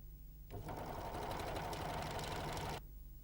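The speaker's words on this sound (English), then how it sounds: "Place the edge to be sewn under the presser foot and sew." A Janome 6234XL overlocker runs steadily while sewing a rolled hem, a fast, even mechanical whirr with rhythmic stitching clatter that starts abruptly, holds for about two seconds close up, and stops.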